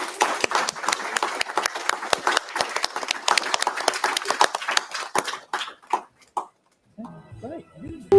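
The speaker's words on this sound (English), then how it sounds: "So we give them all a round of applause." Scattered clapping from a small panel audience, rapid and close, thinning out after about six seconds, followed by a short spoken comment.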